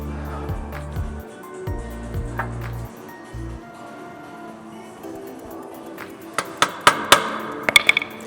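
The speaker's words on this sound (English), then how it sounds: "grab a little hammer and pound it down a touch" A small hammer striking a clamped part into a thin metal channel, a quick cluster of sharp metallic taps near the end, following low rumbling and scattered handling noises.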